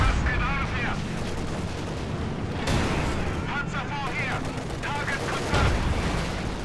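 Tank battle gunfire in Company of Heroes 2, with T-34s and a Stuart in the fray: a steady rumble of artillery and gun bursts throughout, sharp blasts now and then, and someone talking over it.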